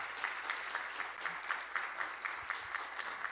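Soft applause from an audience at a university degree ceremony as an award is presented, a steady patter of many hands with a few sharper, evenly spaced claps standing out.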